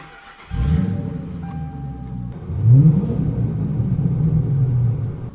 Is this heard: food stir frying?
no